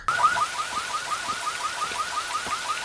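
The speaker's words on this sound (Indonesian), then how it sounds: "memecahkan kaca mobil tersebut yang memicu bunyi alarm" A car alarm, set off by a smashed car window, wails with a rapid, repeating electronic warble that carries on steadily and loudly, with no voices.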